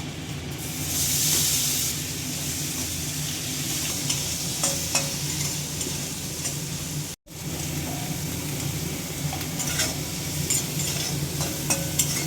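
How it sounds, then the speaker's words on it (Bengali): Cubed butter sizzles and fries in a pan for fried rice, a steady close hiss with faint stirring scrapes, broken by one brief silent cut partway through. "কিউব বাটারটাকে দিয়ে দিচ্ছি আমি"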